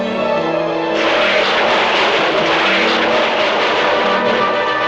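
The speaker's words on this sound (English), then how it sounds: "The car does a full flip and then just explodes out of the blue" Car crash in the horror film Silent Night, Deadly Night Part 2, where a car flips and explodes; a loud, sustained broadband roar surges in after a quieter engine-like opening and holds steady.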